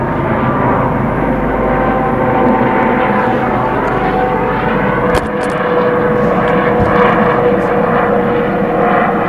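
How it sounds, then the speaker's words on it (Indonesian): A loud, continuous rotor and engine drone of a helicopter passing close overhead, steady throughout with a slight shift in pitch. "Jadi, aduh, helikopter."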